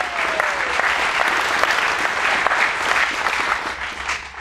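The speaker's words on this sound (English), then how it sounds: "we can clap for military spouses" An audience claps together for military spouses at a talk on flying the F-117 Nighthawk, a dense, steady burst of applause that tapers off near the end.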